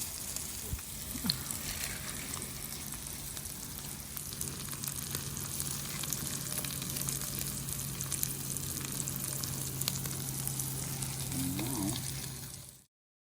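Burger meat topped with cheese sizzling on a flat griddle, a steady moderate hiss and crackle that goes on for several seconds before cutting out.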